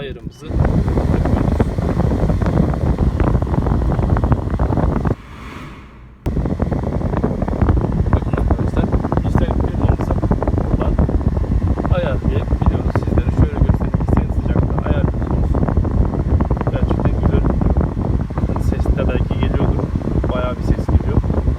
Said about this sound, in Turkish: Dijital bir klimamız var. Şu anda açtım. Biraz fazla yüzüme geldi.